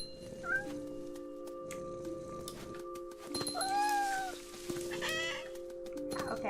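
A cat meows in the video game What Remains of Edith Finch, a few drawn-out, rising cries over steady background music, clearest near the middle and again toward the end.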